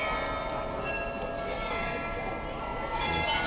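Glockenspiel bells on the town hall at St. Mary's Square in Munich chime continuously in a dense, ringing wash, heard from the square below amid steady crowd ambience.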